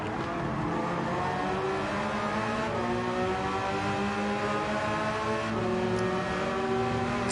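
Porsche race car driving in the video game Gran Turismo 7, a continuous loud engine drone with shifting pitch as it accelerates and changes gear, steady throughout.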